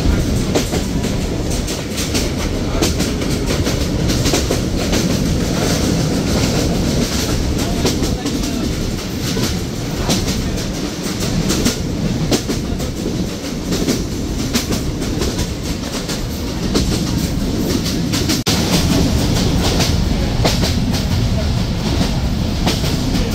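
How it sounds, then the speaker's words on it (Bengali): A Bangladeshi passenger train runs at 50–60 km/h on a rainy day, its steady loud rumble and rhythmic clickety-clack of wheels on rail joints filling the whole stretch, heard from inside the coach. "আর এখন মোটামুটি ট্রেনটি ঘন্টায় 50 থেকে 60 কিলোমিটারের উপরে চলছে।"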